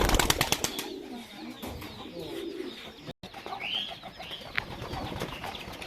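Pigeons in a loft coo in soft, repeated throaty calls at close range, with faint chirps and a brief flutter mixed in.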